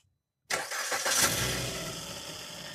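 Car engine cranks and fires after a garage engine rebuild with a new petrol filter: silence, then an abrupt loud catch at half a second, a brief rising rev, then a steady settling idle, close up.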